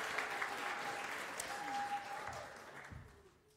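Congregation applauding and cheering in a church service, a steady wash of clapping that fills the whole moment and fades slightly toward the end.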